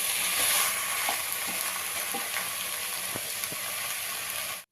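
Vegetable biryani with salt, turmeric and chili powder being stirred in a pan: a steady sizzling frying hiss throughout, with intermittent soft scraping clicks from the spoon, fairly close, no talking.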